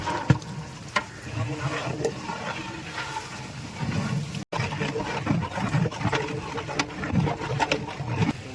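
Browned onions with kilos of ginger and garlic frying in a huge pot for a 30 kg chicken dum biryani, a busy sizzle with scraping and stirring clatter throughout, broken by a brief gap midway.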